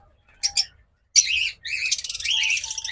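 Pet lovebirds and cockatiels chirp in short bright bursts, first a brief pair of calls, then a denser run of overlapping tweets and whistles nearby, with no one talking.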